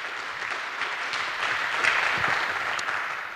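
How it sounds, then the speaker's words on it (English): An audience at the SHA2017 hacker festival claps for a festival organizer, a full, continuous round of applause that swells slightly toward the middle, with a faint cheer or two and no speech over it. "maybe we can give him a short round of applause just for organizing Science for SHA"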